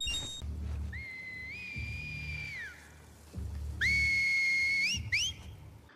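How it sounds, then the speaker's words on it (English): Seraphites in The Last of Us Part II whistle to each other: a long rising-and-falling human whistle, then a second louder one and a short rising chirp, over low ambient rumble. "having the Seraphites communicate through whistles is pretty ingenious."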